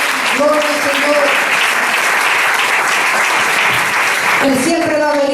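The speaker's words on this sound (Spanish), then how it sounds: "Dale un aplauso fuerte." A church congregation claps loudly and steadily for several seconds while a preacher's voice continues over the applause.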